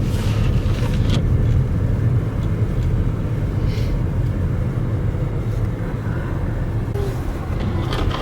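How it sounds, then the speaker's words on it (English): A car's tires spin as it sits stuck in deep snow on an unplowed road during a blizzard, giving a steady loud rumbling engine drone with wind noise that carries on without pause and no voices. "He's spinning tires. He's totally stuck."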